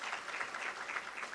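Audience applause at a memorial lecture and women-of-the-year awards event, a faint, steady patter of clapping from a distant crowd with no voices over it.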